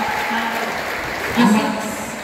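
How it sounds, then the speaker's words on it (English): Audience applause at a Labor Day beauty pageant for Miss AIU 2024, a continuous wash of clapping with a voice talking briefly over it. "let's give them a round of applause"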